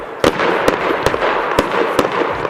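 Fireworks rockets launched in a winter display, a series of sharp bursts and pops about every half second, loud and fairly near, over a steady crackling rumble.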